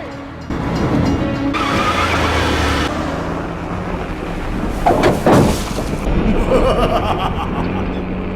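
A car is rammed and shoved from behind by a truck, with a loud continuous engine roar, tire squeal and a scraping crunch midway, all close and sustained.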